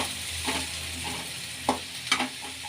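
Chopped spring onion and firm onion fry in oil in a pan under a soft, even sizzle, with a few sharper scrapes and clinks of a spatula stirring near the end.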